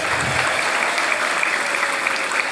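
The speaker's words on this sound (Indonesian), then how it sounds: "Tepuk tangan dulu untuk Ibu Nirwana" Steady, loud applause from an audience at a school alumni motivational talk, a continuous dense wash of clapping filling the whole moment without a break.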